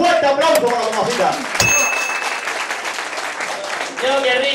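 Applause from an audience for a singer at a public event in Cabezas, Matanzas, sustained clapping under a speaker's voice, with a sharp ding partway through.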